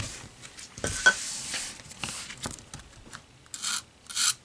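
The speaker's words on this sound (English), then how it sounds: "I'll go around it with some 1000 grit." Fine 1000-grit sandpaper rubbed around the edge of an acoustic guitar pickguard, a series of short, close raspy strokes of uneven length, growing louder toward the end.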